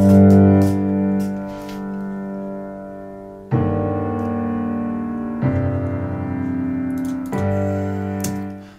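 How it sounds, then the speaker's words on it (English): A sampled piano from the EX24 sampler plays sustained chords, changing roughly every two seconds with soft attacks, steady and unaccompanied until it fades at the end. "And there's this third piano, also from EX24"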